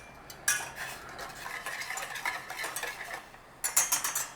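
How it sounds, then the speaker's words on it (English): Chutney with ginger powder and sugar being stirred in a pan over a low flame, with scraping and clinking of a utensil against the pan. Scratchy strokes run continuously, then a louder burst of stirring near the end, with no talking. "So just keep giving it a stir so it doesn't stick on the bottom."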